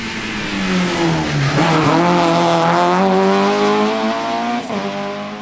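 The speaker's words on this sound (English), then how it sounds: "further back and 6th fastest is Pete Dornan in his rapid little Peugeot 206." A Peugeot 206 rally car blasts along a stage at the Shackleton round of the Northern Ireland winter rally series, its engine loud and close, rising and falling through gear changes with brief tyre squeal.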